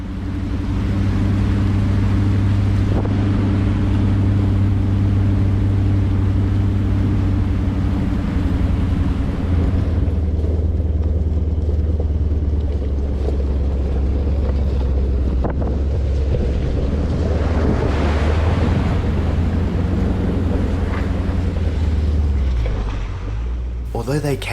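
A 4WD vehicle fords a long, up to knee-deep water crossing with a firm rocky base on the way to Kalgan's Pool, giving a steady engine drone under constant rushing water and heavy wind buffeting on the microphone throughout.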